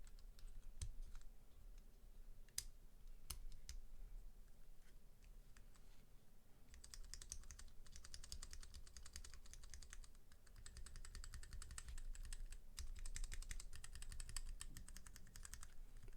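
Brown-switch mechanical keyboard typed at close range: soft, slightly scratchy key clacks in irregular runs, sparse at first and then denser, quiet and alone.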